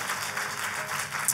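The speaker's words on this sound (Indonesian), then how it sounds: "Kalau mau tepuk tangannya yang lebih dahsyat lagi buat Yesus Tuhan kita" Congregation applause at a church sermon, a dense wash of clapping from a crowd filling the short moment at steady volume, with no voices rising above it.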